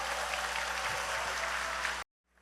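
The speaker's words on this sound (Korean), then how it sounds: "박수로 좀 격려해 주시기 바랍니다" Steady, dense applause from a church congregation for its choir at a Honam mission anniversary worship service, sustained for about two seconds before cutting off abruptly into silence.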